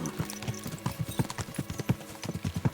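Horse hooves pound in a fast galloping rhythm in Kingdom Come: Deliverance 2, steady close clip-clop beats during a horse race, with no talk over them.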